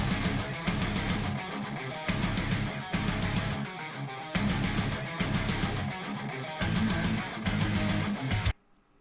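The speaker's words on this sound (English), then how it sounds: "We start with a very, very cool guitar riff. Sounds like this is going to be heavy metal." A loud, dense distorted heavy metal electric guitar riff from a Transformers Devastation soundtrack piece, with pounding low rhythm, repeating in chugging phrases for several seconds before cutting off abruptly.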